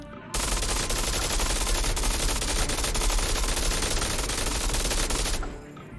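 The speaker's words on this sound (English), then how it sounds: "be able to feel the raw power of the M249 and PKM machine guns, for example, as they rattle off the rounds" Sustained automatic fire from M249 and PKM machine guns in the VR shooter Onward, a dense, loud, continuous rattle of rounds lasting about five seconds before cutting off.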